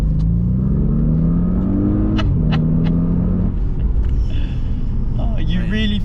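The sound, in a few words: 2015 Audi S8 accelerating hard in dynamic mode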